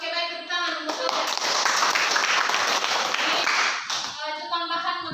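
Applause erupts in a classroom during a student-teacher's biology lesson: a dense burst of clapping from the class lasts about three seconds, with the teacher's voice just before and after.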